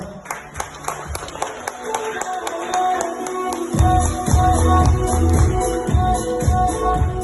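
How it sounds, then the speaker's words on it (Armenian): An audience at an engagement ceremony breaks into loud, steady rhythmic clapping that swells and grows fuller partway through, with musical tones ringing beneath. "Մեկ անգամ ևս բարձր ծափահարում է այդ որոշման համար։"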